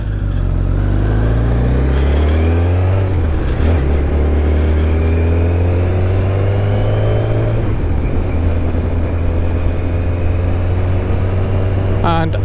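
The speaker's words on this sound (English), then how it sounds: "So yes, it's a Kawasaki ZZR1100." A 1997 Kawasaki ZZR1100 D5 motorcycle revs up close, its engine pitch climbing and falling in a few sweeps before settling into a loud, steady idle.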